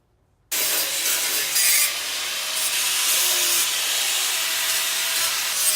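Angle grinder cleaning up steel on an iron altar build, a loud steady abrasive hiss that starts abruptly and runs unbroken close to the mic, with no voices.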